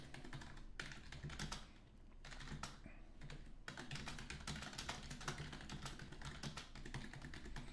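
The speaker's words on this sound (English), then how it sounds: "BB pounding on that keyboard." Rapid typing on a computer keyboard, close and steady, with dense clusters of clicks and a brief pause near the middle, in a quiet room with no talk.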